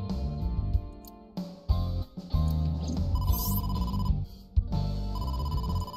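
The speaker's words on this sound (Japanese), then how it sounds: "伊達、モーマから電話が。" A phone rings in the video game AI: The Somnium Files. A repeating electronic ringtone plays clearly over steady background game music for several seconds, with no voices over it.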